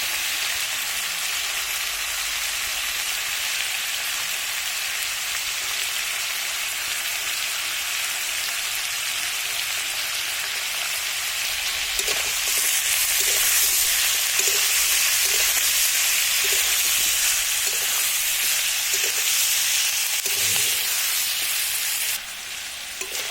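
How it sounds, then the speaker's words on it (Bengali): Onions frying with pieces of meat in a pan give a steady close sizzle, with light stirring scrapes in the second half as the crackle grows a little louder. "আমি পেঁয়াজ দিয়ে কিছুক্ষণ ধরে কষিয়ে নিয়ে আছি"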